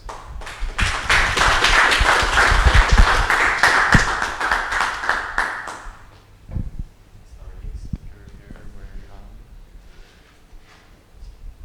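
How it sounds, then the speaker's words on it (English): An audience at a web accessibility talk gives a round of applause, with loud, dense clapping for several seconds that fades into scattered claps and light tapping, and voices are faintly heard afterward. "Let's give another round of applause."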